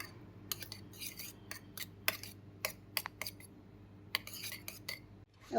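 A spoon mixes Schezwan or chili sauce in a bowl: quiet, irregular metallic clinks and taps against the bowl, close by, with no talking.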